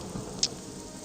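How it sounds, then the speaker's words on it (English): Steady rain falling in the town of Balmora in the video game Morrowind, a soft even hiss with one brief drip-like tick, no voices. "It's damnable rain."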